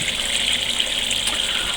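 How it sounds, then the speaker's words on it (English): Water trickles steadily from a big flat shower head onto a grain bed during home brewing of a session NEIPA, a continuous soft hiss and splash that stays even throughout, with no voices. "I just went for this, which is just a big flat shower head. You can see it's nice, steady trickle, you know, just sitting on top of the grain bed."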